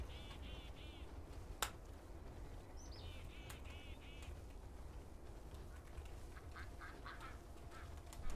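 Ducks in the video game Pillars of Eternity 2 quack in short repeated bursts, faint against a low ambient rumble, with a sharp snap-like click and scattered chirps between them.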